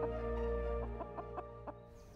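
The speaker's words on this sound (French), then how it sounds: "en ouvrant le coffre de la déesse, l'officier de police découvre la présence de vrais poulets" Live chickens cluck from inside the open trunk of a Citroën DS car, a steady low bed of sound broken by a run of short, rhythmic clucks, fairly close and with no talking.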